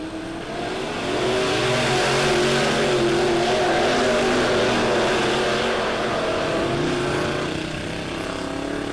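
Race cars in a heat race at Lebanon Midway Speedway, a small oval track. Several engines roar together in a loud, steady, dense drone that swells and fades slightly as the pack goes by.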